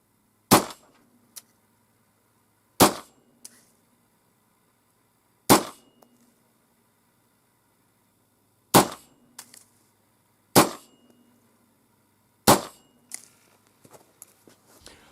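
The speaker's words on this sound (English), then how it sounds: "I was going to fire a 5-shot group" Six pistol shots fired for an accuracy group test, sharp loud cracks spaced a few seconds apart at uneven intervals, with faint handling clicks between them.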